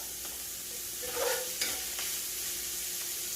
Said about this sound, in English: I've got my sausage right here done. It's ready to go. So I'm just going to spread it out.